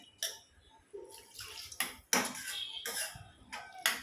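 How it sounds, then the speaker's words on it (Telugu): Water is poured into a pan of cauliflower curry, heard as short splashing bursts and clanks of metal cookware at close range, with quiet gaps between them. "సో ఇక్కడ సరిపడా వాటర్ వేస్తున్నాను నేను."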